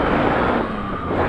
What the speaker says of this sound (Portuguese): Tem um carro ali atrás